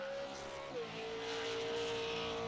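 A race car at the Thompson Super 50 completing a lap, its engine holding a steady high drone that dips briefly in pitch, loud and close with crowd noise beneath.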